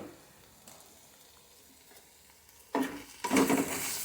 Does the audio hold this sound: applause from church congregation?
no